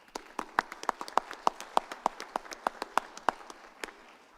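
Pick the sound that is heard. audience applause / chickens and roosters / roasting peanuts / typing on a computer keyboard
audience applause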